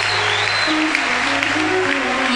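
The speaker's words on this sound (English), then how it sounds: "Clap your hands to Jesus." A church congregation claps continuously and loudly throughout, a dense crowd applause close by, with voices faintly mixed in.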